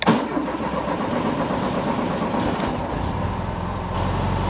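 A VW Beetle engine cranks and catches, then settles into a rough, steady idle, loud and close with a slight rise near the end.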